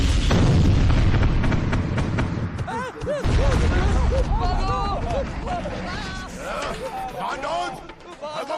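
Cannon fire and explosions in an animated cartoon: a loud, sustained boom and rumble fill the opening seconds, then excited cartoon voices shout over the fading blasts.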